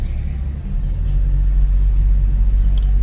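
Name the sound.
heavy street traffic in Texcoco centre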